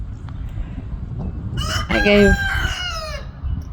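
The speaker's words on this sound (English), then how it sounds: "a rooster in the background" A rooster on a hobby farm crows once, loud and close, in a long drawn-out call midway through over steady outdoor background noise, with a brief word spoken just before.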